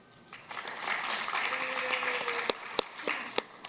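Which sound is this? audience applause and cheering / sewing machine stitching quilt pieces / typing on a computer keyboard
audience applause and cheering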